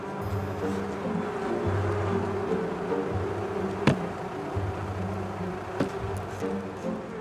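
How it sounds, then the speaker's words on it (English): Honey bees buzz steadily around hives being prepared for transport, a dense continuous drone with a few sharper clicks and knocks close by, no voices. "It's not long before 2 become a swarm."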